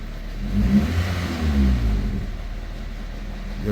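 A 2005 Pontiac Vibe with about 250k miles, idling close by as light throttle brings a mild, brief rise in engine note before it settles back to a steady hum.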